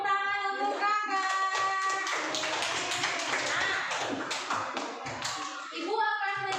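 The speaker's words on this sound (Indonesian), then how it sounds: "Tepuk tangan untuk kakak." A class of children applauds together in a classroom, a burst of brisk, dense clapping lasting a few seconds between stretches of voices.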